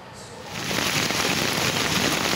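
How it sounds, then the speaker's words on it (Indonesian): Heavy rain pouring over Jakarta during a stormy evening with strong winds, a dense steady hiss of drops that swells louder after the first half second and continues without talk. "Hujan deras dan angin kencang yang mengguyur Jakarta sejak lepas petang telah memicu genangan banjir di sejumlah lokasi."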